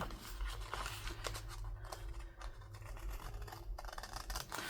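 Scissors trim the edge of a paper envelope made from junk mail for a Christmas craft, giving soft, quiet snipping and rustling close up against a faint room hiss.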